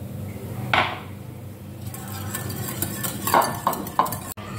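A spoon scrapes and clinks against a bowl while a yogurt and milk mixture for dahi baray is stirred, with a few louder knocks and steady soft scraping, close up.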